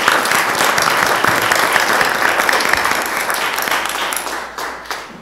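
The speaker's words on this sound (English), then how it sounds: "Round of applause." A crowd at a 2022 La Verne candidate forum breaks into a loud, sustained round of applause, dense clapping that fills the room and then gradually tapers off.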